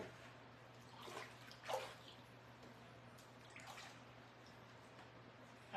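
Dyed fabric swished and rinsed in a bucket of water, giving faint soft splashes and gurgling at close range in a quiet setting.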